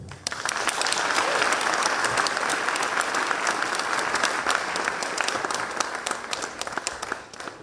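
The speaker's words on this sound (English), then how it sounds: "A big round of applause for everyone," Audience applause at a university ceremony opening a satellite facility, a broad, even wash of many people clapping, sustained at a constant moderate level throughout with no voices rising above it.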